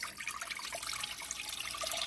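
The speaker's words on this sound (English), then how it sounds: "We're going to go ahead and pour our faux base," Ramen stock pours into a pot on a stove set to a medium-high flame, a short, steady liquid splashing and trickling at close range with no talking.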